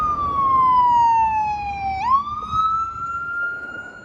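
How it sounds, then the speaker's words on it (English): A wailing emergency-vehicle siren sweeps past steadily on a street in Kensington, North Philadelphia, its pitch dipping then rising as the vehicle goes by, over low traffic rumble. "Let's let this siren go by."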